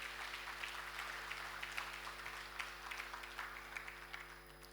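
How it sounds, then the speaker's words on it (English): Sustained audience applause fills the hall at a government tech program launch event attended by Nigeria's Vice President, a steady dense clapping that runs throughout without talk. "join me in giving a resounding round of applause to the Vice President and Wema Bak"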